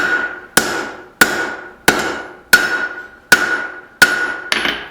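A power hammer with a straight peen die forges hot steel for tongs, landing seven sharp, loud metallic blows at an even pace of roughly one every two-thirds of a second, each strike ringing briefly before the next.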